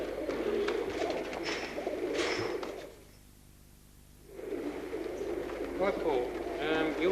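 Pigeons coo and murmur at an indoor pigeon show, steady bird calls mixed with a crowd's chatter, briefly dropping to near silence midway before the cooing and voices return.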